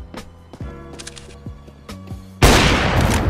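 Gunfire in the shooter game CS:GO bursts in suddenly after a stretch of tonal game sound, then continues as dense, loud, sustained shooting to the end.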